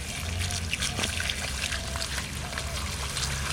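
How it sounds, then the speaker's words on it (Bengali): Water trickles and splashes steadily as an elephant foot yam is washed by hand, close and fairly loud, with faint voices in the background. "ওলটা আমরা এখন ধুয়ে নেবো।"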